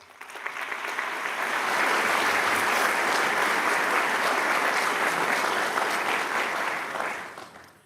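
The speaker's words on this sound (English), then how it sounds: "Let's take a moment to show our appreciation with a round of applause" An audience applauds at a pharmacy school white coat ceremony, a full steady round of clapping that swells in quickly, holds loud for several seconds, then fades out.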